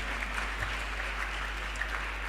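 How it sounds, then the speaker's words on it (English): A crowd at a Nigerian youth network national summit and International Youth Day celebration applauds the steering committee, a steady, fairly quiet wash of many hands clapping throughout with no one speaking over it. "a round of applause for my steering committee then"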